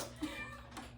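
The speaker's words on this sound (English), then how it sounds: "Sorry, that was the cat." A pet cat gives a short, fairly loud meow indoors, then a second fainter mew, with a steady low room hum underneath.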